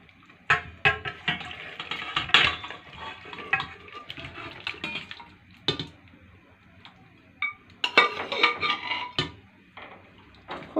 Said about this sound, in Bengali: দেখুন এবার একটি পাত্রে ঢেলে নেব।